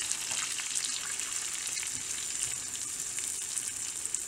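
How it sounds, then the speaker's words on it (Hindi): Ground split chickpea dal roasts in melted butter over low heat for chana dal halwa, giving a steady close sizzle and crackle with light spoon stirring and no voices. "हमने दाल को उस वक्त तक भूनना है हल्की आंच पे जब तक दाल का रंग चेंज हो जाए"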